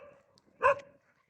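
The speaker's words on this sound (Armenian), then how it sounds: "աննպատակ հաչում ես" A single short dog bark pops out sharply at mid-distance on a rainy day, preceded by faint low murmuring and followed by quiet.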